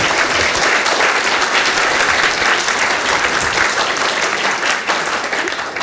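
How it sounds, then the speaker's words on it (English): Loud, close applause from an audience after a lecture on restoring the American chestnut, a dense, sustained burst of clapping that tapers slightly toward the end. "Let's give her a big round of applause"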